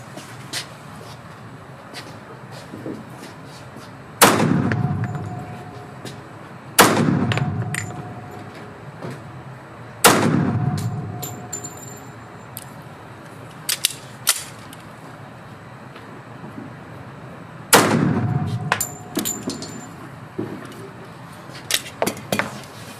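Antique pistols fired at a shooting range in Belgium: five loud, sharp shots spaced several seconds apart, each with a booming decay, plus faint clicks and handling noises between them.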